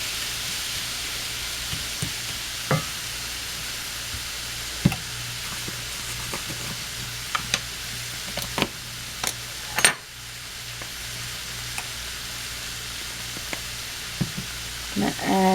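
Mushrooms cooking in a pan give a steady, soft sizzle throughout, dotted with scattered sharp pops and clicks, with one brief louder clatter partway through.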